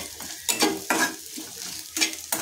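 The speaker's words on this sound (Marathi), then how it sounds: "आता ह्याच्यामध्ये जे सुकं खोबरं घेतलेलं आहे ते टाकून घेणार आहे आणि ते सुद्धा आपल्याला तेलामध्ये भाजून घ्यायचे" Dried coconut roasting in oil with peanuts, with a spoon stirring and scraping the pan in quick, separate strokes over a soft sizzle, close and loud, with no talk.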